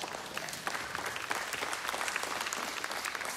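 A church congregation applauds steadily throughout, a dense, even wash of clapping from many hands filling the room, with no voices standing out.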